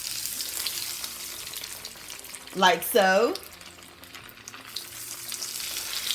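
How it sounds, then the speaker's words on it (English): Ravioli frying in hot canola oil gives a steady, close hiss of bubbling sizzle throughout, with a few louder clattering stirs and splashes partway through and a short spoken phrase over the frying. "Hear that sizzle?"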